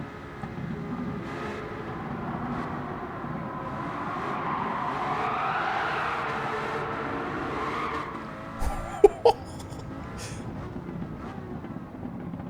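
A V12 car drones steadily on overrun, then a short cluster of sharp exhaust pops and crackles bursts out near the end, close and loud.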